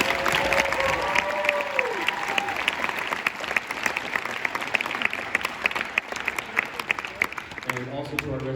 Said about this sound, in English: If we could give him a mad round of applause